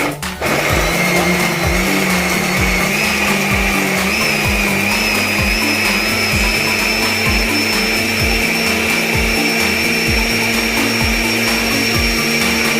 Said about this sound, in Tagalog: Ikot na natin tong blender.